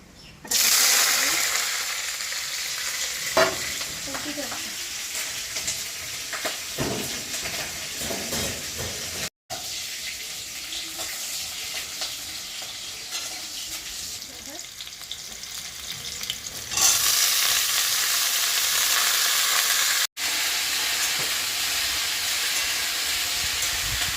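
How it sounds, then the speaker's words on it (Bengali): Dried red chillies and panch phoron crackle and sizzle in hot oil, a loud continuous frying hiss close by that swells louder toward the end, with occasional stirring. "এখানে শুকনো লঙ্কা ফোড়ন দিলাম আর একটু পাঁচফোড়ন"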